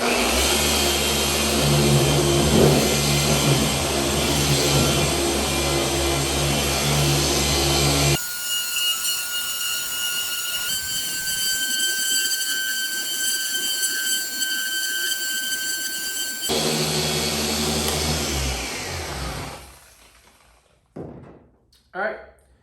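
A machine polisher runs at speed 4 over car paint while applying Koch Chemie S0.01 Hartwachs, a loud steady motor whine with shifting tone as passes change, then winding down and stopping near the end.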